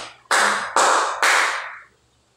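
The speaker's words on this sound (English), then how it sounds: "Give 3 claps to Lisan and Kim" Classroom of pupils clapping together three times in unison, each clap loud and sharp with a brief ringing tail, then silence.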